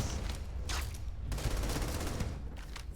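Rapid bursts of a stun gun firing in Starfield crackle loudly and continuously over a dense low rumble, with brief sharper pulses standing out.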